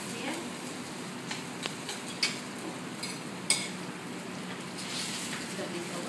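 Tiger prawns being stirred in a pan over gentle heat, with a few sharp utensil clicks and scrapes over a low, steady cooking hiss, close by.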